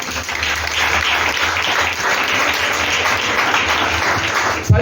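A church congregation applauds Jesus together, a dense steady wash of clapping hands that holds at a constant level for several seconds without a break.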